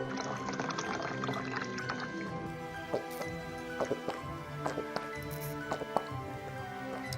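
Water pours steadily into a glass for drinking, a continuous gurgling trickle with small splashes and clinks, heard close and alone.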